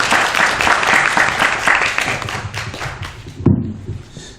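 An audience at a library event in Seoul applauds with dense, steady clapping that gradually thins out, ending with a single knock as it fades.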